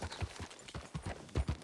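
Morgan horse hooves clip-clopping at a steady walking gait in the video game Red Dead Redemption 2, a series of close, moderately loud hoof strikes with no voices over them.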